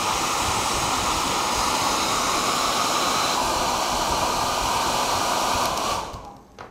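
A heat gun on its hot setting blows steadily onto vinyl for a model kit build, a loud close broadband rush of air that holds evenly before switching off at the end.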